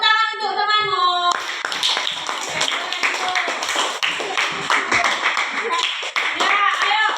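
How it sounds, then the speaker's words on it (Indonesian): Schoolchildren in a classroom break into dense, lively clapping for a classmate, the applause starting abruptly after a brief adult voice and carrying on steadily to the end. "tepuk tangan untuk temanmu"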